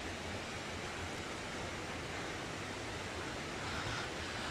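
Waterfall beside a forest trail near Century Sam Lake in Comox, B.C., a steady broadband roar of falling water, continuous and fairly close, with no voices.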